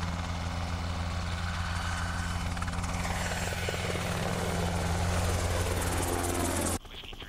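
A Black Hawk military helicopter roars close by, its engine whine and thudding rotor blades forming a loud, steady drone with low harmonic hum, shifting slightly as it passes before abruptly dropping off near the end.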